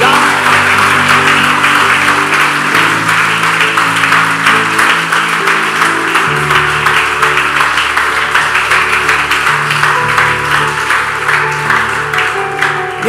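A church congregation applauds loudly and steadily for the whole stretch, the dense clapping carried over sustained keyboard chords.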